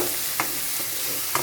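Ginger and cumin powder stirred and fried in a pan, a soft continuous sizzle with two brief scraping stirs of the spoon.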